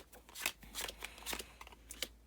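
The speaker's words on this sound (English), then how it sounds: "we're going to shuffle them together." Playing cards are shuffled together into one deck, a quick series of soft, close riffling flutters and taps, faint and dry with no talk.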